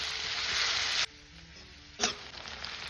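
Onions go into hot oil already seasoned with cumin, dried red chilli, bay leaf and whole garam masala, and a loud hissing sizzle follows. It drops off abruptly after a second, then flares up again with a sharp burst and keeps frying steadily.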